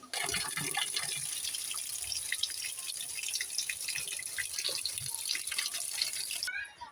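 Running tap water splashes steadily into a sink while cut eggplant is rinsed, a faint continuous trickle with small drips and clatters.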